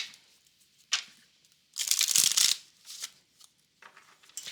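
Tarot cards are shuffled and drawn by hand, giving a few papery riffles and flicks, one longer close shuffle in the middle, then lighter card slides, all with no talking.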